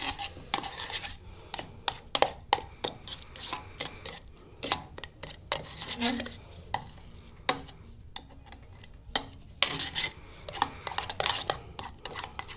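A kitchen knife works lumps of clear wax into chalk paint, giving repeated close scraping and rubbing strokes with small clicks, steady and uneven in rhythm, with no talking.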